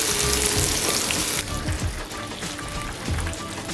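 Blooming onions fry in hot oil in a pan with a loud, continuous crackling sizzle that eases a little after the first seconds and then keeps bubbling steadily.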